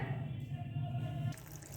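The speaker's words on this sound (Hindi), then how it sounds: "अब इसके अंदर 1 गिलास हम डाल देंगे पानी का।" A glass of water pours into a cooking pot of spiced potatoes and peas, a steady close liquid splashing and trickling for under two seconds.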